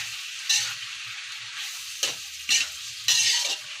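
Beef biryani is stirred in a pan, with several bursts of sizzling, scraping strokes set apart by short pauses, close and fairly loud.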